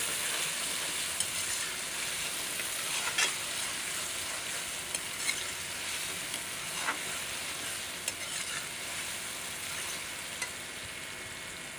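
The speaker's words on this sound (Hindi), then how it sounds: "ये हाफ प्याली है सब्ज़ मिर्ची बारीक कटी हुई, ये शामिल किया। इनको फ्राई करती हूँ।" Garlic-ginger paste and finely chopped green chillies fry in a pan with a steady, even sizzle. Faint scrapes of stirring come at scattered moments, and no one talks.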